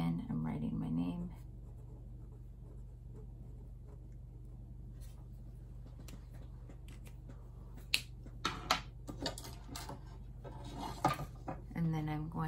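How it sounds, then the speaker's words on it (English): A pen scratches out a name by hand on a 4-by-6-inch piece of paper, faint scratchy strokes and small taps near the mic, with a voice talking at the start and end. "Again, I'm writing my name."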